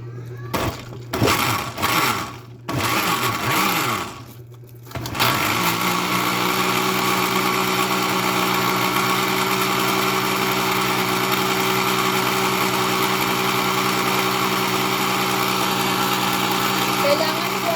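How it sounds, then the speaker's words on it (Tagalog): A glass blender making a vegetable shake whirs at high speed after a few brief starts and stops, then runs continuously with a steady loud whine. "Pipindutin na natin ang blender."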